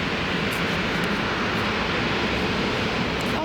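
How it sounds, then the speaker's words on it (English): An EasyJet airliner taxiing onto the runway at Manchester Airport, heard as a steady, loud broadband jet engine roar with a continuous rushing hiss that holds constant throughout, with no voices. "To the right of the EasyJet has moved and taxiing onto runway."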